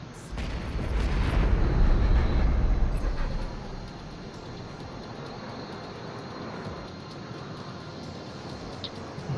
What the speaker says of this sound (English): Actually, now the cannon is working.